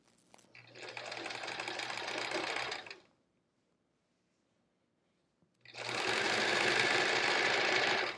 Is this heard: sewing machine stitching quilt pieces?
yes